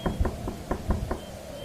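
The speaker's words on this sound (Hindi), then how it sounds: "दरवाजा खटखटाने की हल्की सी आवाज" Light knocking on a door, about six soft knuckle raps in an uneven rhythm, fairly faint against a steady background hiss.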